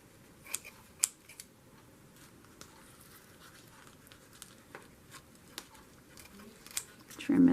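Scissors snip paper for a junk journal in a few quiet, crisp cuts spaced irregularly, close by in a hushed room, with a louder rustle at the very end.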